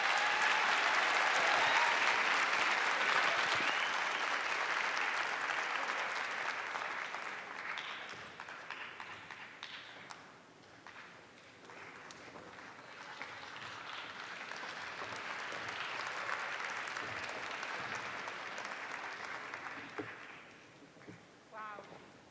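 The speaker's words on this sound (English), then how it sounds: "Can we get a loud round of applause for our panelists?" A live studio audience at a computer science education kick-off event gives panelists a long round of applause, loud and dense at first, thinning midway, then swelling again before dying out as a voice begins.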